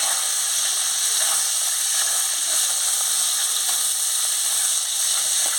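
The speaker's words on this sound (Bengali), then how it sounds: "মাছগুলোকে একটু ভেজে নিই।" Small fish sizzle in hot oil in a pan, a steady, loud, close frying hiss that runs without a break and has no talk over it.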